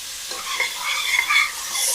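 Onions fry in a pan with salt and black pepper while being stirred, a close, steady sizzle broken by soft scraping swirls of the spoon.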